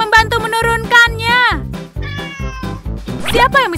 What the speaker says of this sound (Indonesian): Oh tidak, ada kucing di atas.